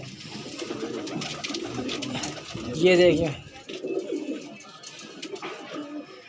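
Madrasi pigeons kept for sale in Trilokpuri cooing softly nearby, with a louder burst of wing flutter or cooing in the middle, under someone talking throughout.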